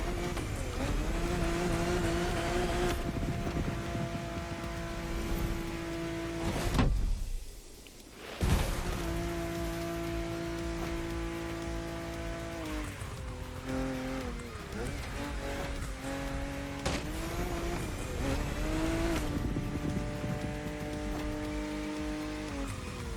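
Porsche driven in the racing game The Crew Motorfest at an 80's classics event, with a sustained engine tone shifting through gears, a brief dip and surge in the middle, and a voice talking over it.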